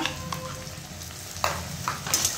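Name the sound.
ginger garlic onion chili paste being fried in pan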